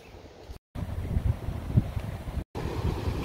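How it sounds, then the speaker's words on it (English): Strong gusting wind buffets the microphone in a steady low roar on a beach, with surf-like rushing noise and brief dropouts of silence. "Extremely windy though, my hat keeps blowing off."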